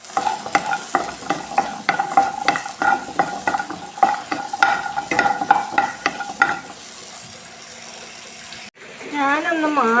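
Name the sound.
shallots sautéing and stirred in a pan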